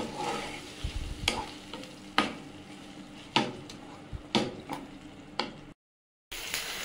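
Ingredients for a North Indian sarson dish fry in a pan, with a sizzling bed broken by repeated scraping stirs at irregular intervals, close and fairly loud, then a brief cut to silence before the sizzle resumes.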